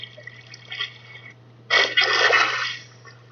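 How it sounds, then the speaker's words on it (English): Water splashing down from a bucket in the Minecraft video game, a short quiet burst followed by a louder rushing gush that fades away after about a second. "My first MLG water"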